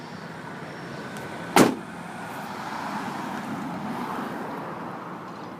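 A 1989 Honda Acty mini truck drives along with a steady low engine and road drone, broken early by one sharp knock or clunk, then a continuous moderate rumble with no talking.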